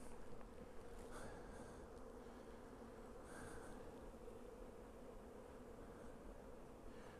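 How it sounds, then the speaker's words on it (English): Honey bees droning steadily in an opened hive box, a dense continuous buzz close by, with a few brief louder passes as individual bees fly near. "once you get down in here, there's quite a few bees"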